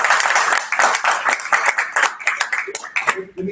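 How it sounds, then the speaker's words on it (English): Live audience at a Beachbody training event clapping in a steady burst of scattered handclaps, fairly close and tapering toward the end. "let's give a round of applause for my twin brother"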